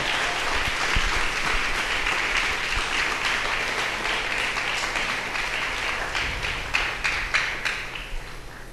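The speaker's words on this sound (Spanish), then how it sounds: "Bríndele un aplauso al Señor en este día." A congregation claps together in sustained applause, with a few sharper individual claps standing out as it begins to thin near the end.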